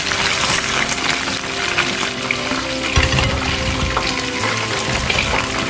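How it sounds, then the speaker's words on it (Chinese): Starch-coated food frying in hot oil until golden, a loud continuous sizzle and bubbling with occasional stirring or clattering, heard up close without speech. "炸到这种金黄的时候捞出来。"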